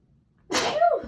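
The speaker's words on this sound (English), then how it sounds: "I do have to sneeze" A single close, forceful sneeze bursts out after a brief quiet intake.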